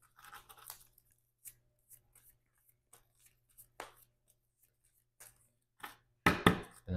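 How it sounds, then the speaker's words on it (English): A deck of cards for a solo card game is shuffled in short bursts of crisp riffling and flicking, scattered across the stretch with quiet gaps and a louder flurry near the end. "Let's shuffle up the encounter deck here."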